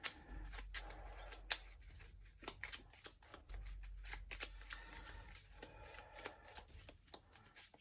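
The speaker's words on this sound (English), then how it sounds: "Gonna need to shuffle already" Deck of Thunderstone Quest game cards being shuffled by hand at a table, a quiet series of close, crisp riffling bursts and taps in an uneven rhythm, with no talking.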